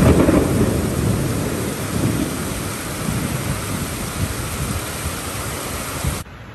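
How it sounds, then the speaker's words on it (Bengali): Torrential rain pours down in a dense, loud, continuous roar, with deep rumbling thunder blended in. The sound holds steady throughout and then drops off abruptly at the end. "সাংঘাতিক মুষলধারে বৃষ্টি হচ্ছে"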